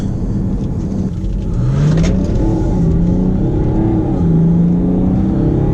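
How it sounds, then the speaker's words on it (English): A 2017 BMW X6 30d diesel accelerating hard on the road, heard from inside the cabin as a loud steady engine drone whose pitch rises and falls through gear changes, with no talk. "there's no complaints when it comes to acceleration. Getting up to 70 was quick"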